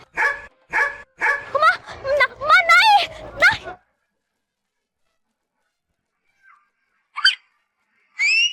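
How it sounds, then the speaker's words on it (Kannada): A street dog barks in a quick run of sharp repeated barks that rise into higher yelps, then falls quiet before a couple of brief yaps. "ಆ ನಾಯಿ ಹೇಗೆ ಅಟ್ಟಿಸ್ಕೊಂಡ್ ಬರ್ತಿದೆ ಅಂತ"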